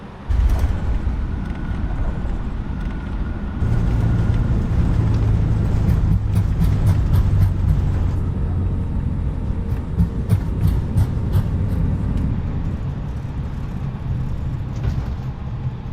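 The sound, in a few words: Airbus A320neo thrust reversers on landing, short runway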